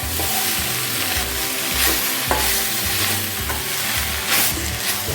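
Grated coconut and vallarai (brahmi) leaves sauté in a pan, giving a loud, continuous close sizzle with a regular rhythm of scraping stirring strokes throughout.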